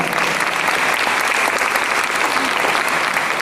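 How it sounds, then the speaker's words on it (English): Loud, sustained audience applause at a school Founder's Day celebration, a thick continuous patter of many hands with no breaks. "Please give her a huge round of applause."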